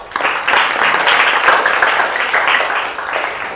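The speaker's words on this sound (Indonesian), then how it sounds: "tepuk tangan buat teman-temannya yang sudah" A small group in a classroom claps together in a brief burst of applause, steady and fairly close, with no one speaking.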